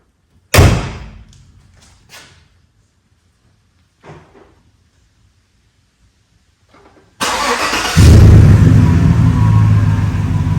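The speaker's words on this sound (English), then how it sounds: "Let's close the hood and see if it'll start." A 2015 Chevrolet Silverado's hood slams shut with a single loud, close bang that rings briefly and fades, followed by a few soft clunks, near silence, and then the truck's engine cranking and settling into a steady running roar.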